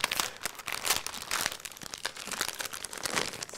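Gift wrapping paper crinkling and tearing as a wrapped, taped present is opened, a dense run of close, crackly rustles and rips without a pause.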